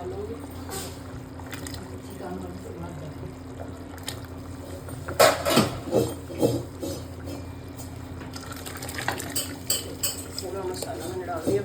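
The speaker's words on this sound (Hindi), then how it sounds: "और मसाले को हमने इसमें ट्रांसफ़र करना है। ये मसाला डालूँगी," Masala being tipped and stirred into a pot of chickpea curry, with utensils clattering and scraping against metal; a steady kitchen background with a burst of louder clinks and scrapes midway, plus a few liquid sounds.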